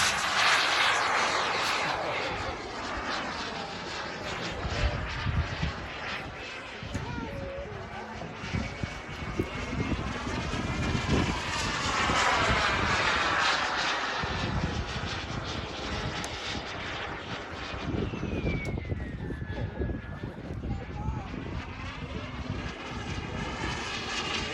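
A radio-controlled model jet with a turbine engine flies at an RC park, its loud continuous whine and roar sweeping in pitch as it passes and circles, steady throughout with no talk.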